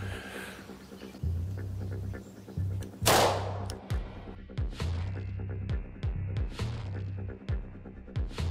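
A Glock 31 pistol fires a .357 SIG round into a clay block with a single loud, sharp report. Steady low throbbing machinery noise runs underneath, along with a few fainter clicks and knocks.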